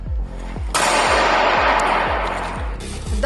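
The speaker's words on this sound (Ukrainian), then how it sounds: "Є навіть кадри, на яких школяр стріляє з пневматичної зброї у тому ж залі." Sharp air gun shots crack in a steady repeating rhythm, about two per second, over a loud hissing background, fired indoors in a hall.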